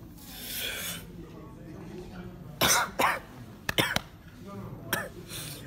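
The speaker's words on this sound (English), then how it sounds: "Then you're gonna cough for like 5 minutes." Harsh coughing after smoking a joint, several loud bursts in quick succession with throaty rasping between them, close by, while people talk in the background.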